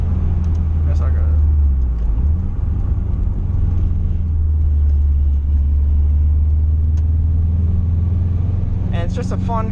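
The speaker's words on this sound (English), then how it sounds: "The intake from Cobb sounds amazing on this car." Subaru WRX with a Cobb intake, a steady low engine rumble heard from inside the car, loud and continuous, with someone talking over it.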